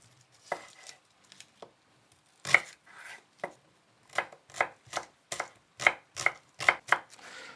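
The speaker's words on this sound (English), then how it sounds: "a couple of shallots, finely diced again" Knife chopping shallots on a board, a few scattered cuts then a steady run of crisp close taps, quiet and with no talking.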